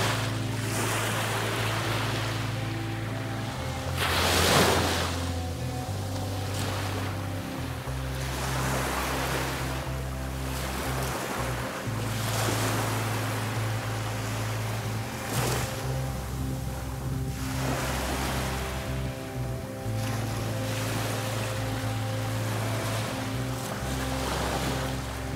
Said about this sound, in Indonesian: deburan ombak yang begitu merdu